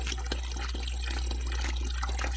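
Spring water piped down from a mountain runs and splashes steadily, close and continuous, with irregular drips and splatters over a constant low rush.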